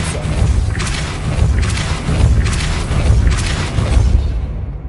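Depulso spells cast in Hogwarts Legacy, a run of about five forceful whooshing booms spaced roughly a second apart over constant rumbling game noise.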